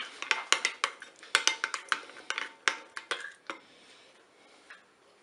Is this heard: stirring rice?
yes